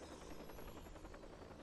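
Helicopter in the game Watch Dogs, a continuous low rotor thrum with a faint pulsing beat, steady and fairly quiet throughout.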